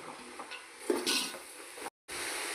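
Vegetable pulao stirred in a pan, with a soft sizzle and scraping strokes that swell briefly near the middle before a sudden short gap of silence, then the steady sizzle resumes.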